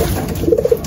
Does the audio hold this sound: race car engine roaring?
no